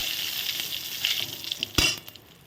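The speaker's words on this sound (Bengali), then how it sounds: "জিরা তেজপাতা ফোড়ন দিয়ে দিলাম ফোড়নটা ভাজা হয়ে গেল" Oil sizzles steadily with whole cumin and bay leaf frying, a bright hiss throughout and a brief sharp clink near the end.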